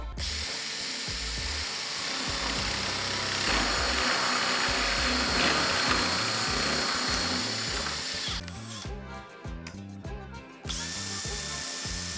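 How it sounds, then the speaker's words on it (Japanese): A power drill mounted in a drill stand, boring a 20 mm hole in wood, whines steadily at close range for several seconds, its pitch holding level, then briefly cuts out and starts again. "ドリルスタンドを今回使ってみたんですけども"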